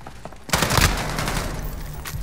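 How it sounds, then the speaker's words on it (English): Gunfire shot through a wall in Call of Duty: Modern Warfare erupts as a loud, dense burst of rapid shots that continues to the end, close and dominant. "Just shoot him through the wall."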